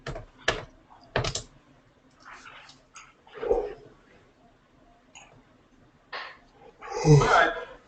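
Brief clicks of computer keyboard typing come in short scattered bursts, faint and close, with soft vocal noises and pauses in between.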